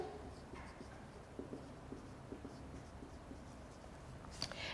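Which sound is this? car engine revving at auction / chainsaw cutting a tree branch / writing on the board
writing on the board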